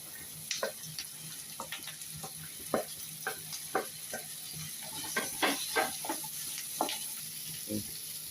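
Sliced ivy gourd (kovakka) sizzles in hot oil with Kashmiri chili powder in a pan, a steady quiet frying hiss broken by scattered crackles and scraping stirs, with no talk.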